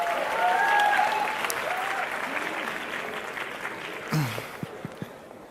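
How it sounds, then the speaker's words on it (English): Applause from a conference audience at a gathering of European socialist leaders and activists, sustained broad clapping that slowly fades, with a brief voice and a few isolated claps near the end. "Also a big applause"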